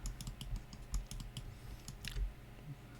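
A computer keyboard in use while working in Maya, with a series of light, close clicks and taps at an uneven pace over a quiet background.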